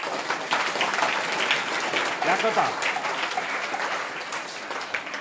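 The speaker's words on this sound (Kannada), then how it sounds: "ಜೋರಾಗಿ ಚಪ್ಪಾಳೆ ತಟ್ಟಿ" Students at a camp session clap loudly in sustained, dense applause that fills the room from start to finish, with a voice speaking briefly over it.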